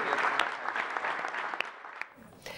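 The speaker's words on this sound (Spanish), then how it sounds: "la Presidenta de la Nación fue recibida con un enorme aplauso y la Presidenta Dilma Rousseff" Sustained applause from a large audience at a Mercosur summit in Brasilia, steady clapping across the clip with a few sharper claps and a brief dip near the end.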